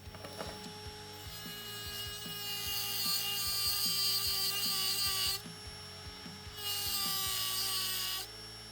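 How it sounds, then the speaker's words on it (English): Dremel 8260 brushless rotary tool with a metal cutting disc cutting through a stripped screw in wood, a high steady whine with grinding bursts that rise, pause briefly, then resume before stopping. "Now that we cut a straight line through the screw"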